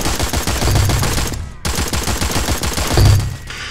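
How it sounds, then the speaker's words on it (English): Rapid automatic gunfire from shooting targets in the Xbox 360 game Hybrid, loud, dense bursts that break off briefly and then resume with heavy low thumps. "Pop your ability and shoot those targets over there."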